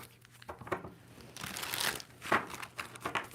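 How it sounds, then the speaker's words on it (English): A tarot card deck being shuffled by hand, close and quiet, with uneven papery rustles, riffles and soft card slaps over a few seconds. "2 more shuffles for Libra."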